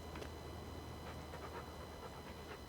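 A dog in the video game Stone Valley pants quickly in soft, rhythmic breaths over a steady background hum, close but quiet, with no one speaking.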